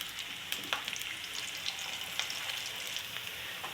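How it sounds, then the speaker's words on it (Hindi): Chopped onion sizzles steadily in hot oil for a tadka for whole green moong dal, a dense, even frying hiss dotted with small crackles and pops, close and alone. "इसमें प्याज डालूँगी, तेल गर्म है।"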